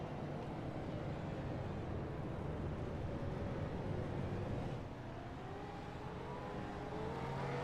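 Sustained engine drone of V8 Supercars race cars in the iRacing sim, a steady mid-volume roar with a subtle rising pitch sweep near the end as cars are waved past under the safety car.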